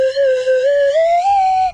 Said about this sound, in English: a much better slide whistle